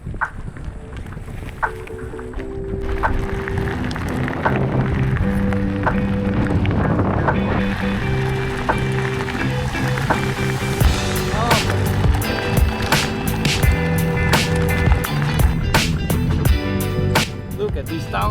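A bicycle rolls over a rocky gravel trail in the French Alps, tyres crunching and rattling continuously up close under gusts of wind noise, with speech heard at times.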